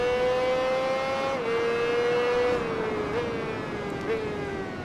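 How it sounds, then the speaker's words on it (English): Motorcycle engine in the racing game Tourist Trophy, revving high with a steady sustained whine that shifts pitch briefly as gears change, loud and continuous throughout. "there is a lot more RPM in this bike than there was in the previous one"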